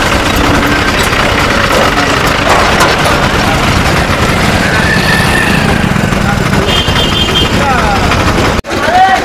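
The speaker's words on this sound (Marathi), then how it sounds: "ऑटो चालू केला आहे" An auto rickshaw engine runs with a loud, steady low rumble close by on a town road near a temple in Himayatnagar, with a brief dropout near the end and voices faintly mixed in.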